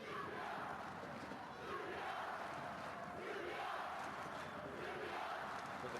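A football stadium crowd at a Norway versus Serbia match roars and chants continuously, a dense, sustained wall of massed voices with no clear pauses.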